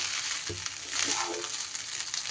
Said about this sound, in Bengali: সব উপকরণ এইবার হালকা হাতে সুন্দর করে মিশিয়ে নিতে হবে।